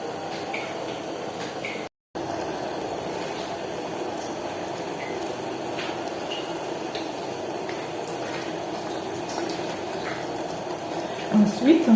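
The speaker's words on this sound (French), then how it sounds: "à un verre d'eau, on ajoute 100 g de sucre. Et on laisse bouillir." Sugar syrup of water and sugar boils in a pot for a Christmas log cake, a steady rolling bubbling hiss that runs throughout, with a brief gap and a few soft clinks near the end.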